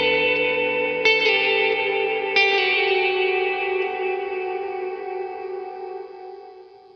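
A Source Audio Artifact pedal in uVerb mode sets a long digital reverb tail behind plucked guitar notes, swelling after each attack and slowly fading to silence, loud and without voices.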